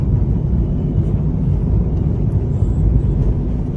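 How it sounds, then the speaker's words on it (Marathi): A car's engine roars steadily and strongly while it accelerates hard on a test drive, a dense, loud low-pitched rumble with constant road and wind noise and no pause. "गाडी अशी एकदम पिकअप घेते."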